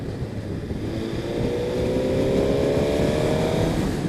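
A 2018 Suzuki GSX-R1000R motorcycle's engine and loud, harsh-toned exhaust drone steadily, the pitch climbing as revs build partway through, with wind rush and no voices.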